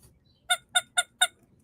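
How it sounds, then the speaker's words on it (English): A small rubber chicken pen toy gives four quick, evenly spaced, high-pitched squeaks, close and clear against near silence. "that might be the highest squeak of all of these guys yet"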